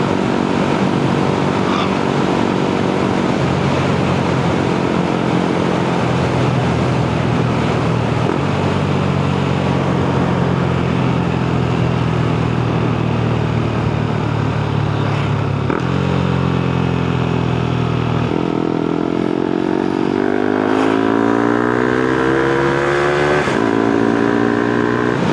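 Tuned Honda Grom motorcycle riding over a bumpy road, a loud, close single-cylinder engine droning steadily with clear shifts and rising revs through the gears, heard alone without talk.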